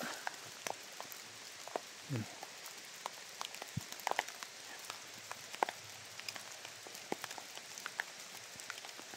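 Rain falls steadily on surfaces outdoors near huts, a continuous soft hiss broken by scattered sharp drips and taps, heard up close with no talking.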